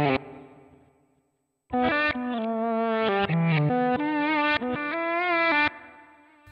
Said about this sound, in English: And that is how I would use my reverse delay.